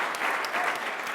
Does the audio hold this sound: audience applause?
yes